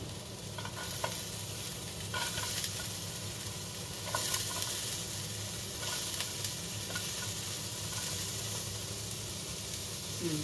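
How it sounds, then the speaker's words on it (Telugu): Onions fry in a pan for tofu fried rice, a loud, continuous close sizzle and hiss with occasional stirring scrapes and clicks. "ఇప్పుడు ఆనియన్స్ మాత్రం ఫస్ట్ వేయాలి, ఓకేనా? ఆనియన్స్ మాత్రమే వెయ్యి."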